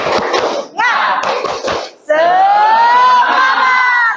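A group of children performs the tepuk semangat rhythmic spirit clap in a classroom, with bursts of clapping and shouting followed by a long, loud, sustained chorus of voices.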